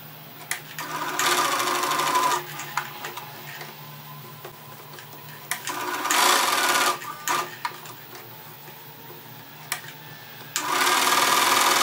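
A sewing machine stitches a plain cotton fabric dress in three loud, close bursts separated by quieter pauses with small clicks and handling noises.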